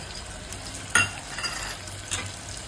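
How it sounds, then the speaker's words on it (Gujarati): Crushed peanuts are added to simmering Gujarati dal in a pot and stirred, with a soft sizzle and a few spoon scrapes and clinks, close by. "હવે આપણે એમાં રસો જાડો થાય એ માટે 2-3 ચમચી સિંગદાણાનો ભૂક્કો નાખીશું"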